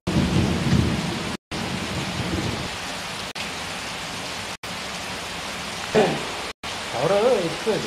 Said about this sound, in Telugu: జిల్లాలో పలుచోట్ల వర్షం కురవడంతో వాతావరణం చల్లబడింది